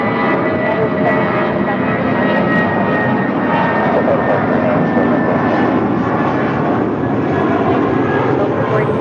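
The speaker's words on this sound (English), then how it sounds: "That was United 797 departing to Los Cabos on an A320." A United Airbus A320 departs for Los Cabos with a loud, continuous jet engine roar close by, steady throughout, with faint voices under it.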